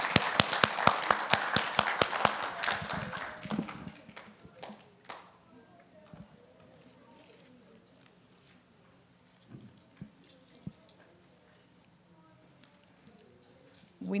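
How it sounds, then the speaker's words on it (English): A small club audience at an induction service gives a round of applause for new members, a few seconds of sparse, distinct claps near the start that quickly thin out into a quiet room with occasional taps and low voices. "Give them a big round of applause."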